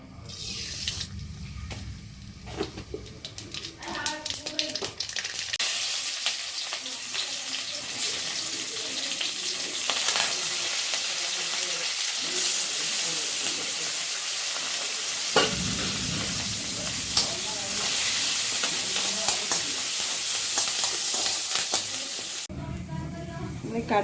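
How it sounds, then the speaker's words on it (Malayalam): Mustard seeds crackle and sizzle in hot ghee for a mango curry, a dense steady frying hiss with scattered pops that runs almost the whole time, with stirring and clinks near the start and end. "ഇത് നെയ്യ് ഉപയോഗിച്ചാണ് നമ്മൾ കടുക് പൊട്ടിക്കുന്നത്"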